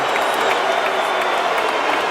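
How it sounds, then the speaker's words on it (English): A dense boxing-arena crowd reacts to a Malignaggi vs Cano verdict with a continuous, loud wash of applause and crowd noise that holds steady throughout. "The crowd with a mixed reaction"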